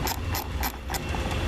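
Screwdriver tightening screws on an Intex pool filter pump, a quick series of rhythmic ratcheting clicks, close and moderately loud, repeating several times in a short burst.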